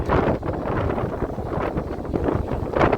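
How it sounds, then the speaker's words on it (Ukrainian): Strong wind roars and buffets the microphone on the stormy seafront in Odesa, a continuous loud gusting rush with no voices. "але вітер скажений"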